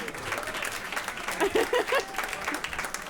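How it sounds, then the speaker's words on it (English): Audience applause for speakers at a climate-week fireside chat on California agriculture, a steady patter of clapping at moderate level with a few voices and light laughter mixed in. "Please give her a round of applause."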